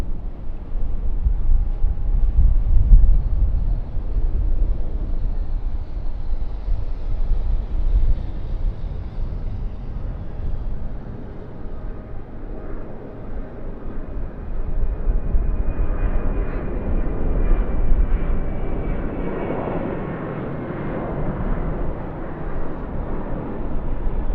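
A departing airliner at Sydney Airport gives a continuous low jet roar that swells and fades over about twenty-four seconds, with steady wind noise and no voices.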